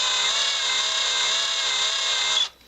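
A cheap $15 electric drill boring a hole in a small knob in a home workshop, one loud, steady whine lasting a couple of seconds before it abruptly stops.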